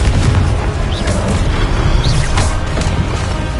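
Confringo fire spells in Hogwarts Legacy go off as dense, rumbling blasts, loud and continuous, with overlapping booms and crackling bursts and no pause between them.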